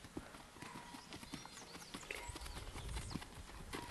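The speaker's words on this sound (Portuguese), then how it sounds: "Tem um galope, ó." A young mare at a horse farm moving in a short, collected gallop, hooves drumming in a quick, irregular clip-clop close by, with faint background noise.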